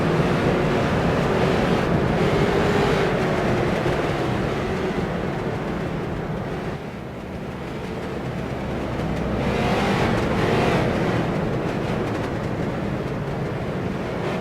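Street stock race cars at Five Flags Speedway follow the pace car in a bump 'n run event, a continuous loud engine roar swelling and easing slightly as the field passes, with no talk.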